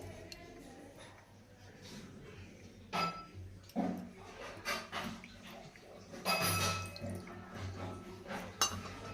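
Water splashes and trickles over a small brass Gopal idol during a home bath ritual, with intermittent clinks of metal vessels and faint dripping, fairly close and moderately loud in bursts.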